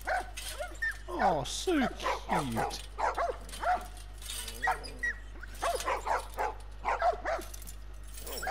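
Dogs barking and yipping in a crowded market scene of The Last of Us video game, short repeated barks mixed with whimpers under frequent talk from several characters.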